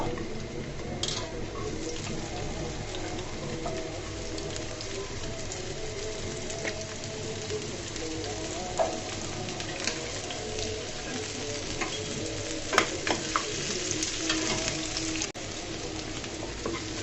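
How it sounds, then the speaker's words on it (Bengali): Onions sizzle steadily in hot soybean oil, a continuous crackling hiss with occasional pops, no voices. "এদিকে আমি পেঁয়াজগুলোকে ভেজে নিব"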